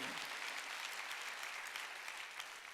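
A church congregation at a Wednesday worship service applauding, with dense, even clapping that fills the whole moment at a steady level without a break.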